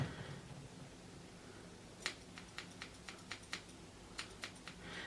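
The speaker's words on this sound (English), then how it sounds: "I'm going to cut that bit off with the thinners in the same kind of way" Thinning scissors snip at a Labradoodle's muzzle hair in a quick series of small, crisp clicks close by, over a low steady background hum.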